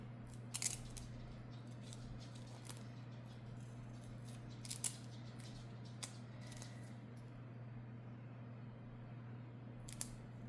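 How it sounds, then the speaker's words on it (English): Scissors snipping up the middle of material for a resin purse: a few crisp, close cuts at irregular intervals over a steady low hum, with no talking. "And cut it up the middle."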